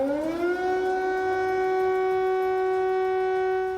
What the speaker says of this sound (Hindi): कीव एयर अलर्ट के सायरन से गूंज रहा था।